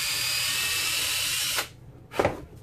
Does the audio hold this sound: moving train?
no